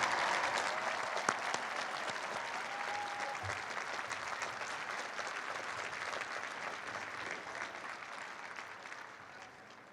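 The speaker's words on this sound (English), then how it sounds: "I ask the audience to please join me in applauding these talented young men and women." A large audience at a university commencement ceremony applauds in a broad, continuous roar of clapping that carries on steadily for the full stretch and tapers slightly toward the end.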